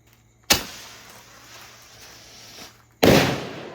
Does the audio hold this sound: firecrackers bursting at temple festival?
yes